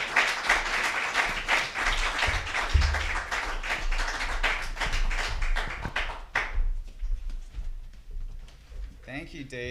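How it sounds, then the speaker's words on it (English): An audience claps for the speakers Craig and Chloe at a talk, a dense burst of applause that holds for several seconds and then thins out and fades. "Round of applause for Craig and Chloe."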